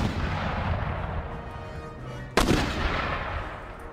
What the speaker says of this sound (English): You've killed one guy by the shell landing exactly on top of him.